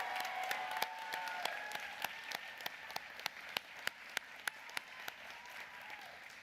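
An indoor commencement audience for a social work college gives warm applause as a student representative is welcomed to the stage, a dense wash of clapping with sharp individual claps standing out, steady for several seconds and fading slightly at the end.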